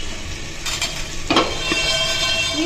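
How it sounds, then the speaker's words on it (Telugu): Toor dal and urad dal frying and being stirred in a pan, a soft steady sizzle with occasional scraping stir sounds, fairly close and with no talking. "ఫస్ట్ కందిపప్పు, మినపప్పు బాగా వేయించుకుందామండి."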